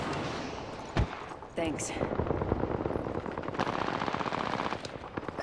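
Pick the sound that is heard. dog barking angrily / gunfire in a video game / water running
gunfire in a video game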